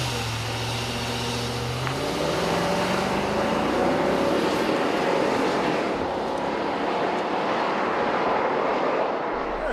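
A 2014 SUV, from a group of Infiniti QX80, Range Rover Sport, Highlander and Durango, accelerates hard from a standstill to 60 mph, engine note rising steadily through gear changes as a loud, continuous roar with no talk.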